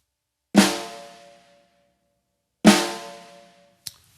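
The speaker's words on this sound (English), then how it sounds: "drop the sticks at the same time, and you're going to get a sound like this." Two sharp drum flam strokes about two seconds apart, each a thick single hit from two sticks landing almost together, with a ringing decay, followed by a faint short tap.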